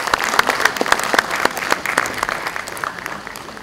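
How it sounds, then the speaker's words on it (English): Audience applause at an international conference opening, with sharp distinct claps over a dense bed of clapping that gradually thins and fades toward the end. "A round of applause for our Director, sir, Dr. C.S. Sharma."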